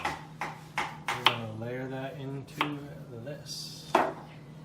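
A knife slices through russet potatoes, thin cuts landing as sharp, separate taps in an uneven rhythm, interleaved with a person talking nearby.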